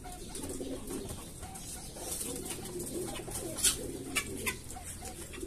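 Young pigeons coo softly and continuously inside a loft, with a few sharper flutters or clicks close by partway through.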